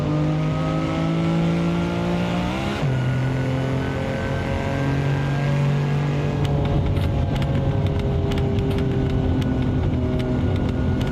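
Simulated classic Lamborghini engine from Assetto Corsa, loud and close, dropping sharply after a gear change, then humming on at lower revs with scattered clicking and rattling noises overlaid.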